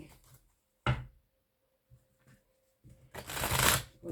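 Lenormand fortune-telling cards are shuffled and cut in two short bursts of soft, close riffling, with a quiet pause between them and the second burst longer and louder.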